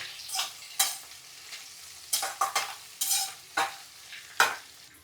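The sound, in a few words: frying crushed ginger and garlic in a pan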